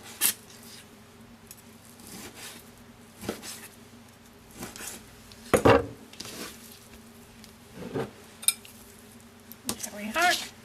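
Knife slicing beef into quarter-inch bite-sized strips in a home kitchen, a handful of brief scattered strokes and clicks against a board, fairly quiet, separated by pauses and faint room hum.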